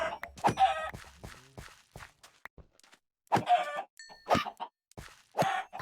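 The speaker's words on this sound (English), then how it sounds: "Stupid eggs. Stupid chickens." Chickens cluck in short, separate bursts in a video game, close and fairly clear, with soft footstep-like taps in the gaps between calls.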